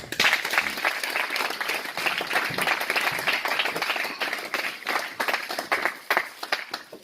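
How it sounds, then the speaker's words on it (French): Sustained applause from a large church congregation at a Sunday service, steady dense clapping throughout with no pauses, fairly close and moderately loud. "Applaudissons s'il vous plaît."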